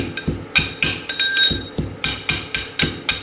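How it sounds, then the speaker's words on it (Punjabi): Garlic being pounded by hand in a kitchen while preparing methi paratha, with about a dozen sharp, regular thuds and faint clinks close by, one every quarter second or so. "ਲਸਣ ਕੁੱਟਾਂਗੇ"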